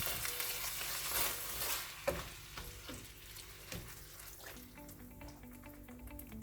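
Chicken lasagna filling in a pan is stirred as tomato sauce is mixed in, giving soft wet scraping and gentle sizzling with a few sharper knocks of the spoon, fairly quiet and close.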